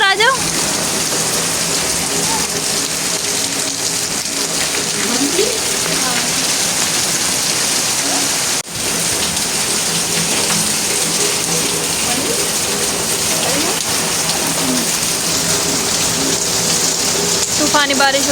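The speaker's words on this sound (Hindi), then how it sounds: "तूफ़ानी बारिश हो रही है, ये देखें" Heavy monsoon downpour in Karachi, a loud, dense, continuous hiss of rain pounding surfaces close by, steady throughout with a brief dip midway and faint voices beneath the roar.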